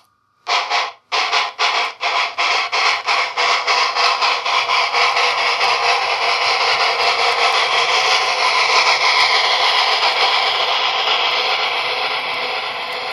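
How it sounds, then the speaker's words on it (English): A TCS WOWSound model train locomotive accelerates up to speed, opening with a few sharp separate chuffs that quicken into a rapid, steady rhythmic beat and build into a loud, continuous rushing run with no talk. "I will demonstrate the locomotive accelerating up to speed."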